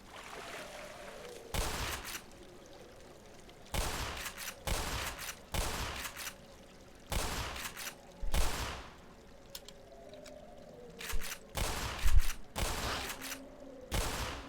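Repeated bursts of gunfire in the video game Black Mesa, loud volleys of rapid shots separated by short pauses, with a low rumble continuing between them.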